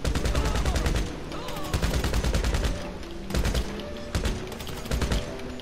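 Rapid machine gun bursts in GTA V Online during a heist mission, loud dense rattling fire in several long volleys with brief gaps, with faint voices underneath.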